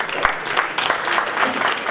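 A seated audience at a women's awards event applauds a speaker, dense continuous clapping from many hands, loud and close, with no talk over it.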